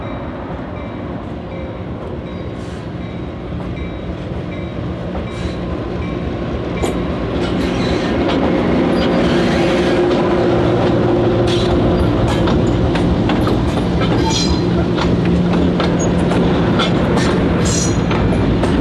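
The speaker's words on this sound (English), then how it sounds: "Typically, Lhoist will cut the power from the empties before putting the locomotives away for the weekend." Lhoist North America High Hood B23-7 diesel locomotives moving railcars in East Tennessee: a loud, steady engine rumble with wheel clatter and scattered metallic squeals and clanks that grows heavier as the train passes close by.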